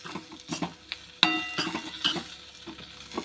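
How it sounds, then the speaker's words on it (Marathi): Cluster beans with garlic stir-fry in a pan, with a steady sizzle, a sharp clink of a spatula against metal, and scraping stirs continuing close by. "थोडंसं परतून घेऊया"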